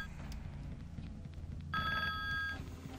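A telephone rings in a video game, the Sinfonia demo, its bright repeating electronic tone starting partway through over a low, steady ambient hum.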